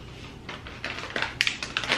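Close, crisp crunching bursts as someone chews a crunchy snack, several sharp irregular crackles over about two seconds.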